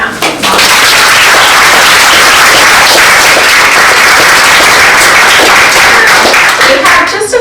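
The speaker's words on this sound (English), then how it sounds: "let's give Nolan a round of applause." Loud, dense applause from an audience at a prize ceremony, continuous clapping that swells quickly and holds steady for several seconds before easing at the end.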